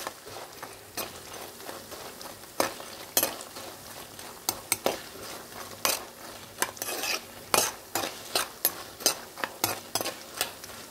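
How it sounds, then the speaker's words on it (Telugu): Food frying in a pan until golden brown, a steady soft sizzle broken by repeated sharp scraping strokes of a spatula stirring against the metal, close and fairly loud, with no voices. "కలర్ వచ్చేదాకా వేయించుకోవాలి"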